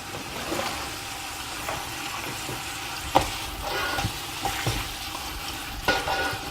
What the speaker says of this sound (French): Alors je vais mettre mes morceaux de viande et on va bien les faire rissoler.